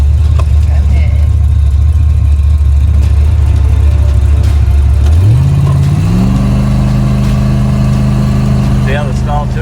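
A Ford Mustang engine idles with a deep loud rumble, then revs up sharply to a higher sustained pitch before a launch, close and dominant throughout.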